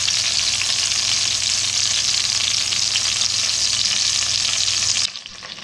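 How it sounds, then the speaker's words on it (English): Chuck pot roast for a Southern-style smothered dish sizzling loudly and steadily in a hot pan, a dense continuous frying hiss with no talk, cutting off abruptly near the end. "listen to the sound of that sizzling roast"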